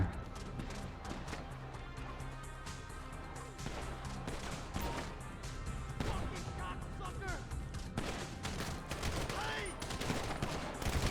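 Gunfire from a zombie mode of the GTA V video game, shooting at zombies: dense, continuous bursts of shots and impacts over game sounds, with voices talking throughout.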